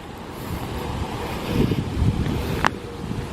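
Strong wind roars across a deserted open area of pine barrens at night, a continuous rushing gust with microphone buffeting and swelling surges, no voices present.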